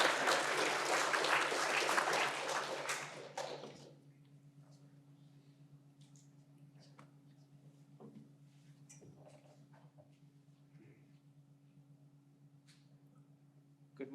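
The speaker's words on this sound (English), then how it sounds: "All right, let's give a round of applause." Audience applause at a decarbonization research symposium, a loud burst of clapping for about four seconds that then cuts off, leaving a quiet room with a steady hum and a few faint scattered sounds.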